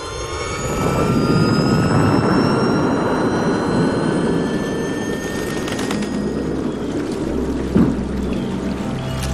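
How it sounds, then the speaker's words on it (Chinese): A military aircraft engine, likely on a large drone, starts up with a rising turbine whine and rushing roar, loud and close, whose pitch climbs steadily before settling into a sustained drone. "发动机启动。"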